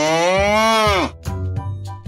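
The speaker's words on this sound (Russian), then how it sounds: "На лугу паслась корова." A cow grazing on a meadow lets out one long, loud, drawn-out moo that fades at the end. Soft background music carries on underneath and after it.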